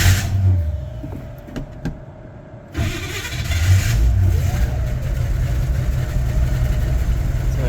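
A tired, smoky 1964 Chevrolet Bel Air engine struggles to hold an idle, stumbling briefly before catching and settling into a loud, rough, steady run with rising revs, close by and with no talking.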